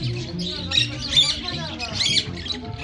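Several pet parrots squawk and chirp in harsh overlapping bursts close by, mixed with a voice speaking over them.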